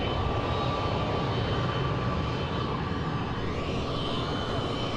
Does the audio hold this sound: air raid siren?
no